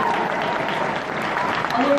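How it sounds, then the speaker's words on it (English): Audience at a Comic-Con panel applauds in a dense, steady patter of clapping lasting about two seconds, with voices talking over it. "the great round of applause for everyone that loved your questions"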